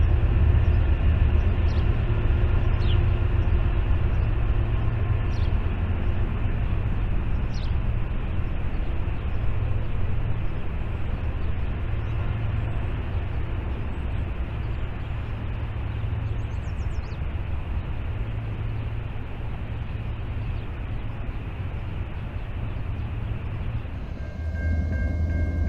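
A BNSF freight train carrying a Boeing 737 Max fuselage on the MRL 3rd Subdivision near Helena, Montana rolls past with a steady, loud, continuous rumble and rail noise that holds for the whole stretch, with no voices.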